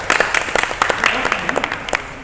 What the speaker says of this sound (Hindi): तो उनके लिए एक बार जोरदार ताली होनी चाहिए।